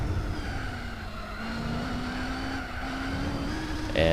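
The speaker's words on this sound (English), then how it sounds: "Hard on the brakes again into Indianapolis." A race car in Gran Turismo 4 brakes hard into a corner, with a sustained tyre squeal over steady engine drone, loud and continuous.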